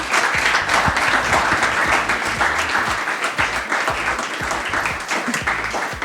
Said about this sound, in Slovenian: Wow, dobili smo aplavz.